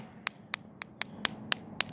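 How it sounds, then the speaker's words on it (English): Hammer tapping a rock to break it open: seven sharp, evenly spaced metallic taps, close and crisp, over quiet room noise. "Just now I'm gonna use the hammer and simply do this and tip."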